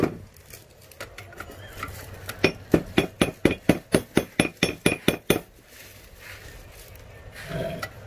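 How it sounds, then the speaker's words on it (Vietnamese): A hammer taps a bent kitchen fruit knife blade in a quick run of about fifteen sharp metallic clinks, loud and close, with quieter handling noise before and after. "cái búa gõ rồi"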